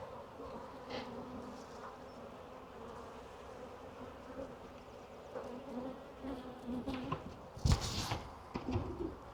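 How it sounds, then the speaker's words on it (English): Dense bees hum steadily inside a hive box in a continuous low buzz, with a few louder bumps and rustles near the end and faint birdsong behind. "there's quite a few bees in there"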